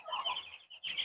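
Ten-day-old broiler chickens in crates cluck softly and rapidly at close range in a short burst, with a brief pause before the clucking resumes.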